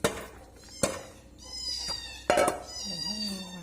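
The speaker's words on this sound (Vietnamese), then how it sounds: "Mèo thì đói, mèo thì kêu." A hungry cat meows several times during Hmong cooking in the northwest highlands, with corn being poured in; the meows are clear and close, some with a rising pitch, mixed with faint talk and handling noise.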